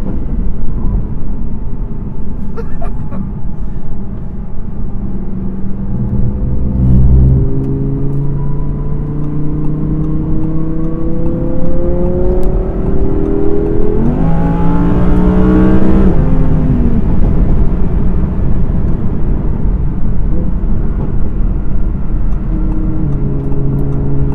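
A 2017 Audi R8 V10 Plus engine roars loudly from inside the car in dynamic mode with sport exhaust on, rising through the gears with sharp revving sweeps and drops as it accelerates, continuous throughout.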